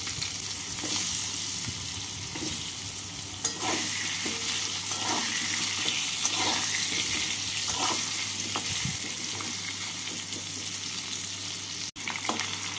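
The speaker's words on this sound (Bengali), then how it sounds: "আলুগুলোকে লাল করে ভেজে নিলাম" Potato pieces fry in hot oil seasoned with panch phoron and hing, a steady loud sizzle running throughout with occasional stirring scrapes and clinks of a spoon against the pan.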